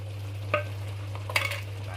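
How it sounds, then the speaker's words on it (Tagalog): Canned mackerel frying in oil in a pan is stirred: two quick scraping strokes over a soft, steady sizzle and a low background hum. "Haluin natin."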